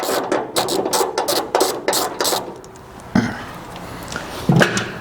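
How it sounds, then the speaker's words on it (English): A 9/16 socket wrench working a bolt on a 1973-87 Chevy Squarebody hood, a rapid run of sharp ratcheting clicks up close, then a pause and a few scattered metallic knocks. "We're going to get a 9/16 socket and we're going to loosen up this bolt out right here"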